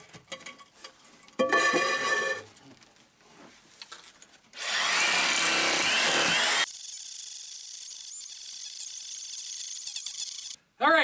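Intermittent scraping and gouging of a wide, sharp chisel cutting into a wood floor, bursts of rough rasping separated by pauses, close and fairly loud.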